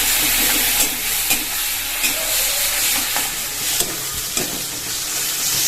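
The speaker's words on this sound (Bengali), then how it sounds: "এখন দিয়ে দেবো পেস্ট করা পেঁয়াজ" Onion paste frying in hot oil with whole garam masala spices, a steady loud sizzle with periodic scraping stir strokes, close and continuous with no talking.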